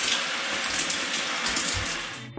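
A shower runs steadily at close range with a dense, hissing spray of water, while running shoes are washed under it; no voices are heard.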